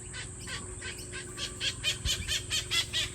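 A king parrot gives an unusual call, a run of about six harsh, squealing bursts repeating close by, growing louder over a faint steady background hum.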